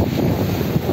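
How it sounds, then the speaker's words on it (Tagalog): Steady, blustery wind roaring across an open microphone at Stanley Beach, Hong Kong, with a low rumbling wash of rough surf at low tide underneath; no voices. "O maalon lang kasi masyadong malakas ang hangin."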